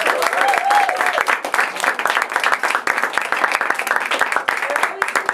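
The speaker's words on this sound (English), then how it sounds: "One more big round of applause" An audience at a high school poetry event claps for a poet, a lively patter of individual hand claps close by, with a few voices calling out over the applause.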